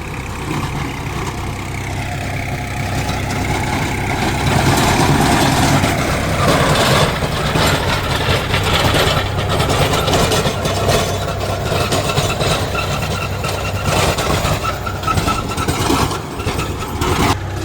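A tractor engine runs steadily while pulling an Agrikarm rotavator through a farm field, a loud, constant diesel drone with a low rumble that holds even throughout, with no speech.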